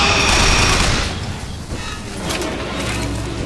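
Gunfire in the video game Bioshock Infinite: a loud, dense fusillade of rapid shots and booming impacts that fades briefly, then swells again in a continuous barrage.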